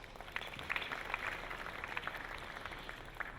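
An audience at a summit gives light, scattered applause, a soft patter of clapping heard from a distance throughout.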